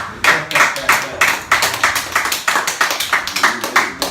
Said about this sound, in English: I want a huge cave round of applause.